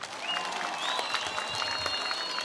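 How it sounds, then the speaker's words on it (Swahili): Dense, steady applause from a crowd at a school event in Machoge, Kisii County, where exam candidates receive donations. The clapping fills the whole moment at an even loudness, with thin whistle-like tones riding above it. "Makofi kwa Yesu."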